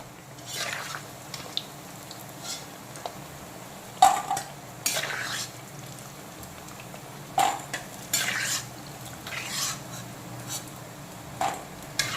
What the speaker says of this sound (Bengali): এখন বড়িগুলোকে তেল থেকে তুলে নিচ্ছি।